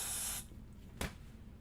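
Spray gun hissing steadily inside a spray booth, a continuous loud spray that cuts off after a moment, then a single short burst against quiet room noise.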